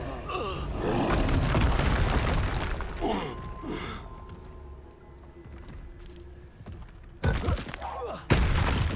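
Expulso explosion spell in Hogwarts Legacy, a loud booming roar with rumbling thuds, fading in the middle before sharp blasts burst out again near the end, with a voice speaking over it.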